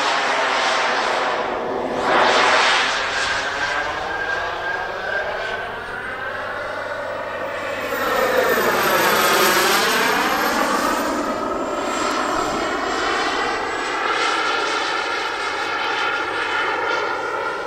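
Model aircraft engine at the Jet&Prop Open model aircraft event in Jämi, a loud whining drone that rises and falls in pitch as the plane flies past, with a sweeping Doppler dip midway.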